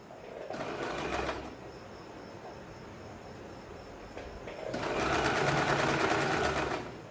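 Sewing machine stitching a folded fabric strip into a blouse cord, two steady whirring runs of stitching separated by a quieter pause, close and clear with no talking.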